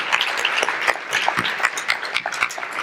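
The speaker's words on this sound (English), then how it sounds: "Even bigger round of applause, come on" A crowd applauds at a talk event, many hands clapping in a lively, uneven patter that stays loud and close for the whole stretch.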